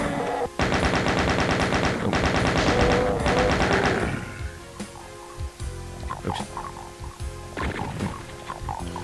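A chain gun in Doom 2 fires three rapid, evenly paced bursts of about a second each, loud and close, followed by quieter game effects and short thuds.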